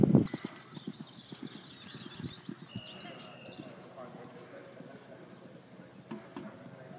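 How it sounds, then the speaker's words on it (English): A chestnut gelding gallops on an eventing cross-country course, its hoofbeats thudding in a quick, fading rhythm beneath a commentator's voice and faint birdsong. "Vinci, Mickey Arnold, as Chestnut Gelding has taken a little bit of a pull through 15"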